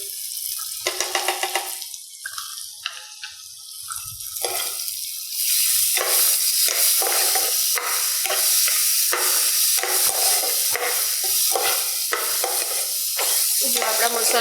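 A dry yellow date (kharek) vegetable dish cooks in its own steam in a pan, giving a loud, dense sizzling hiss broken by repeated stirring bursts, with no other sounds.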